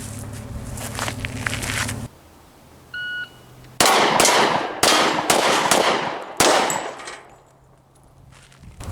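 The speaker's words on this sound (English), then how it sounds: "1911, 6 shots, 3 targets." Six pistol shots from a 1911 handgun on an outdoor shooting course with three targets, loud sharp cracks with ringing echoes and metallic clangs of hit steel in between, spaced unevenly over several seconds.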